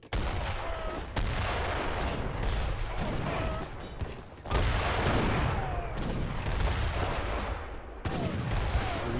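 Hand mortars fire in a real-time strategy video game battle, a dense, continuous barrage of booms and crackling blasts with heavier bursts around four and eight seconds, mixed at a moderate level.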